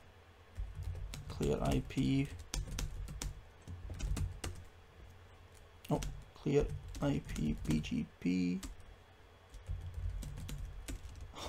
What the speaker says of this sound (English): My typing's so bad.